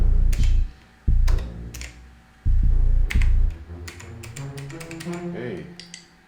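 Keys on a laptop keyboard are tapped in irregular clicky bursts, sharp and close, while low thumps and a voice carry on in the background.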